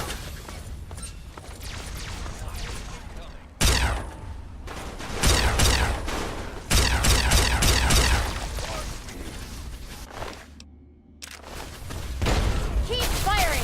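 Heavy Fallout 3 combat with loud bursts of gunfire and impacts that come in waves, then a brief lull before more shots, with voices shouting over the noise.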